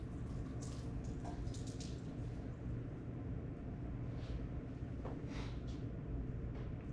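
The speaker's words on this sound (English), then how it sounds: "So there we are, gravity pulling all the water out." Water drains steadily out of saturated soil under gravity, a continuous close trickling and splashing hiss with scattered drips over nearly seven seconds, steady in level and without talk.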